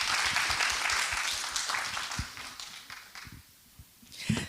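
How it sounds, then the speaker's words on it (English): An audience applauds panelists at a data and governance symposium, a sustained round of clapping that tapers off toward the end before a brief final burst. "Let's give a round of applause to our panelists."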